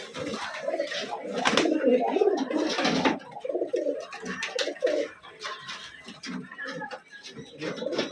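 Pigeons coo repeatedly in a loft, soft throaty calls overlapping close by, with someone speaking intermittently among the birds and rustling movement in the cage.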